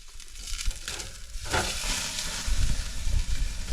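Steak sizzling over a campsite fire while truck camping, a close, continuous crackling hiss with low rumble that grows a bit louder toward the end.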